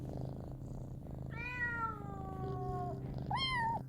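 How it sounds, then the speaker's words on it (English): A cat gives a drawn-out meow, a soft purr underneath, then a second shorter rising meow, fairly faint and close with no speech over it. "just a few cat noises there so you don't get startled by this interruption"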